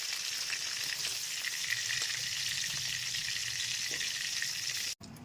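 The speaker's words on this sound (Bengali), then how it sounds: "তো চলো আগে এটা ভেজে নিই ভালো করে" Crabs fry in a generous amount of hot oil, giving a steady, dense sizzle that carries on evenly and close by, with a sudden brief cutout near the end.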